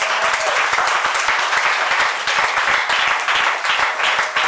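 A church congregation applauds the Lord Jesus at a French-language sermon, with loud, dense, continuous clapping that holds steady throughout.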